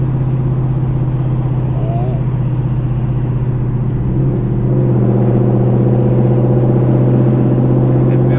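A 2016–2022 Chevrolet Camaro SS on lowered Eibach springs cruises the freeway near 100 mph, a loud, steady engine drone and road rumble heard from inside the cabin that swells slightly partway through.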